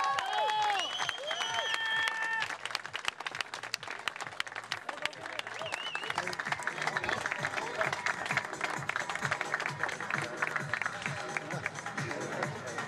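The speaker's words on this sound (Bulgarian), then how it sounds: "вашите аплодисменти за 8-те силни мъже" An audience applauds strongman competitors at a Balkan strongman contest in Albena, Bulgaria, with dense sustained clapping and crowd noise throughout, and an announcer's amplified voice over it at the start.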